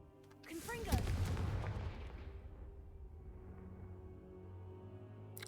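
A Confringo blasting spell fires in the Hogwarts Legacy video game: a sharp whooshing burst builds into a heavy booming blast about a second in, then trails off into a low rumbling tail under quiet game ambience.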